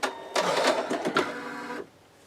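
An embroidery machine stitches out an in-the-hoop wallet: a short burst of fast mechanical whirring and rattling runs close and loud, then stops abruptly, leaving near silence.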